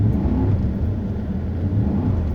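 A Pontiac Grand Prix GXP accelerating on a road, giving a steady, fairly loud low engine rumble and whir that holds throughout with no voices.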